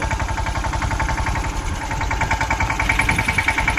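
A new mini tractor's small diesel engine idles steadily with a fast, even chugging pulse, close and fairly loud throughout.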